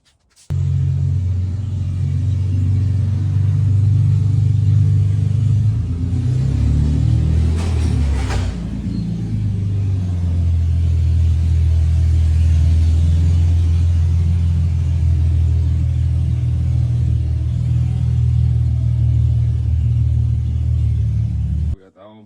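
A car, the G, idles and rolls into a garage with a steady low engine rumble throughout and a brief louder surge midway, close and continuous.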